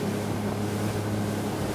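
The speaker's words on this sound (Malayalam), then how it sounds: "ബ്രേക്ക് വാട്ടറിൽ നിന്നും ബോട്ട് പുറത്തേക്കിറങ്ങി. അതോടെ വേഗതയും കൂടി." A motorboat speeds out past a breakwater in the Maldives. Its engine gives a continuous, loud drone, and water rush and wind noise sit over it throughout.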